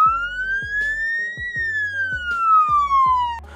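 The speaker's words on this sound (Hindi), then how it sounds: "वेल का मतलब है ऊंची आवाज में रोना, इससे ही इस आवाज को वेल साउंड कहा जाता है" An ambulance wail siren sounds in a long rising-then-falling sweep, loud and steady, over rhythmic low engine or road rumble.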